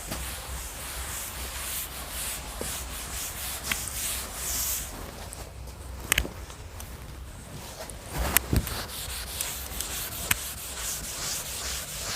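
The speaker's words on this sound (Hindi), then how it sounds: "रब करते हैं इसको और आगे बढ़ते हैं" A board being erased during a classroom probability lecture, with steady continuous rubbing and scraping strokes close by for several seconds, broken by a few small knocks.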